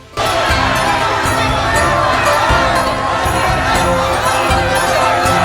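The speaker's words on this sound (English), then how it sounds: "With the angry mob still in pursuit." An angry mob shouts as a sound effect: a dense crowd roars and yells at constant loudness throughout, with no single voice standing out.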